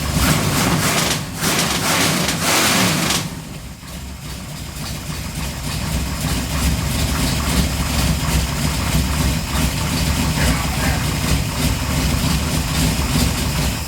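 A 454 V8 engine, stored for 20 years, idles with a deep, steady rumble and a rough exhaust note, running continuously and loud at close range.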